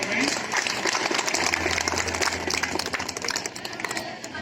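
A crowd claps steadily for several seconds, with voices mixed in beneath the applause.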